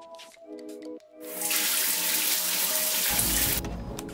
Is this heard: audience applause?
no